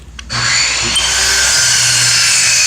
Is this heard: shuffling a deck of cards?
no